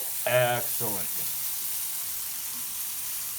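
Smelts fry in hot oil with Cajun spice, producing a steady hiss of sizzling. A short stretch of talking comes early, then the frying goes on alone.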